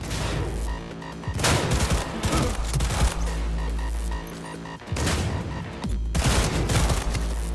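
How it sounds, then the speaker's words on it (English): A smart pistol fires in Cyberpunk 2077, a loud, dense stream of rapid gunshots that runs almost without a break, with a couple of short pauses between volleys. "That's why I use a smart pistol."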